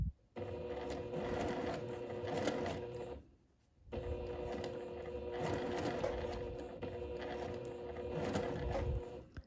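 A sewing machine stitches ric rac trim onto a fabric band, a steady close mechanical whir running continuously with a brief pause in the middle before resuming.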